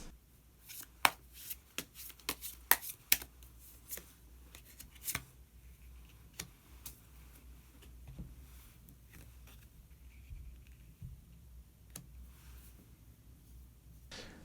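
Tarot cards shuffled by hand before one more card is drawn: crisp flicking and riffling bursts, clustered early then sparser, close and fairly quiet in a still room with no talk.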